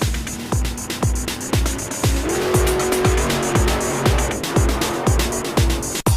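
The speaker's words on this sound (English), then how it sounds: "Race car." Race car driving hard, with a fast run of sharp repeated engine revs and shifts, loud and close, and a rising squealing whine held through the middle.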